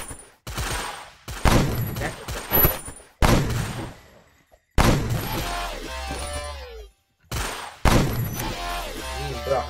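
Bursts of rapid gunfire from a video game come in loud, separate volleys, each cut off by a short silence, with heavy low thumps under some of the bursts.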